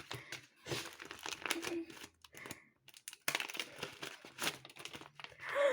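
Plastic wrappers of Halloween treat packets crinkle and rustle up close as they are torn open, in irregular bursts with brief pauses and some background voice.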